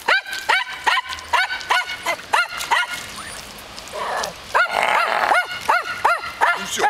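A dog barks repeatedly in quick, loud bursts, with a brief pause of shuffling noise midway before the barking resumes close by.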